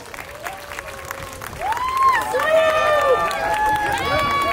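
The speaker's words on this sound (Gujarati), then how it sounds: "સોનલ માટે જોરદાર તાળીઓ." Audience applause at a dance show, clapping building and growing louder, mixed with whistles and cheering tones from the crowd.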